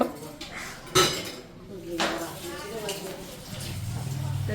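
Dishes clatter and clink as they are scrubbed and handled, with scraping and knocking under a person talking.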